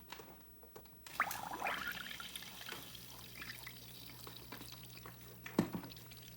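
A FreeSea hang-on-back aquarium filter starts up and primes, water splashing and trickling softly after a click, then flowing at a low, steady level with a few drips.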